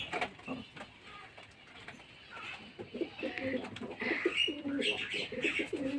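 Pigeons cooing nearby, soft repeated throaty coos that grow busier toward the end, with a few chirps, faint mechanical clatter and low voices in the background.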